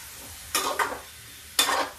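Raw green pumpkin pieces stirred and fried in a pan for halwa, giving two short scraping, sizzling bursts of a spoon moving the mixture, close and moderately loud with quiet pauses between.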